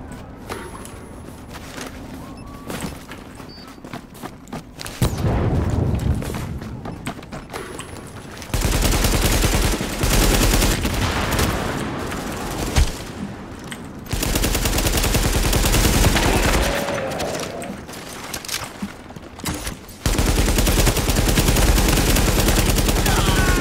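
Gunfire in The Division, with bursts of rapid automatic shots and scattered single reports that run through the scene at steady loudness amid game ambience and movement sounds.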